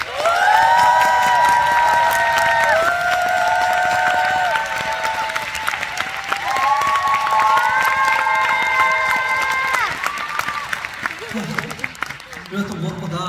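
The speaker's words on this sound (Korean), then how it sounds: "모든 분들께 우리 박수 한번 부탁드립니다" A concert audience at a tour show in Seoul applauds, with a patter of claps mixed with high, sustained shouts and cheers from the crowd.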